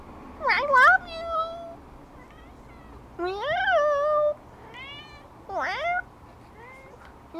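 Young kitten, about 15 days old, meowing in a series of high rising cries, three louder bursts with softer calls between, fairly close in a quiet indoor room.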